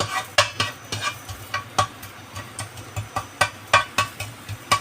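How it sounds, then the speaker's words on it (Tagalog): Onions sautéing in a pan, a steady low sizzle broken by regular scraping stirs of a utensil against the pan, close and fairly quiet with no voices. "Gigisa lang po natin yung sibuyas"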